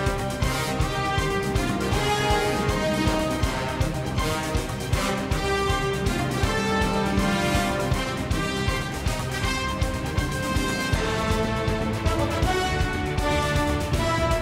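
Spider-Man: Far From Home orchestral score where the Spider-Man and Mysterio themes clash, a dense, loud, driving passage with steady percussive accents running throughout.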